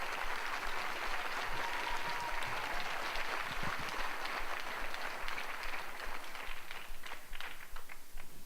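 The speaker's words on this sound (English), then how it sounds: "I didn't give a chance for you to applaud our soloist job on the prologue of Star Wars" Audience applause at a school spring band concert for a young soloist who played the Star Wars prologue, a dense, steady wash of clapping held at full strength for the whole stretch, easing only slightly near the end.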